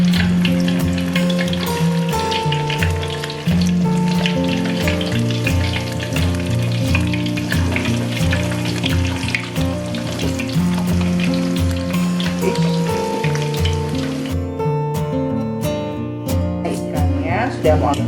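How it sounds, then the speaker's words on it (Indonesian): Pindang tongkol (tuna) fries in hot oil with a loud, continuous sizzle and occasional stirring, while a voice talks over it intermittently. "Sekarang kita mau goreng ikan pindang tongkolnya ya"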